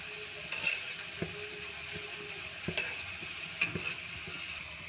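Jalebi sizzles steadily in hot oil with a dense, even crackle as the coils are turned, with a few soft taps and clinks rising above the constant frying hiss.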